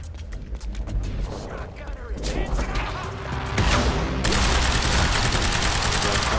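Shotgun in Quantum Break fires in a rapid flurry of loud, close blasts mixed with clattering mechanical impacts and debris, building into a dense continuous barrage.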